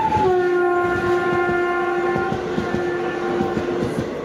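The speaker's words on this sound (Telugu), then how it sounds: "పక్కన చూడండి ఒక ట్రైన్ వస్తుంది కదా" A passenger train rolls past on the adjacent track, its horn sounding in long steady layered tones over a continuous rumble and rhythmic clatter of wheels, loud and close throughout.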